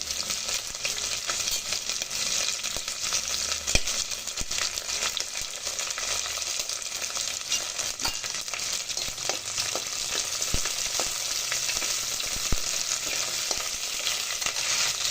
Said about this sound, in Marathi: थोडंसं लालसर झालं तरी कांदा लालसर झालेला आहे